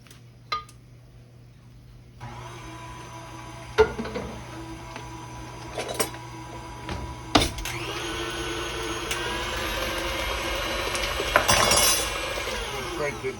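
Electric mixer whirring in a bowl of cream cheese icing for carrot cake, starting up after a brief quiet and running steadily with occasional clinks against the bowl.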